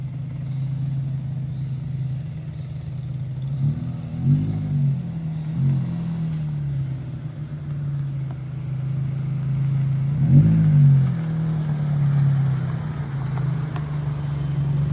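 A motorcycle engine idles steadily nearby at a campsite in Corterra Eco Reserve, San Mateo, Rizal, with a couple of brief throttle revs rising and falling over the low hum.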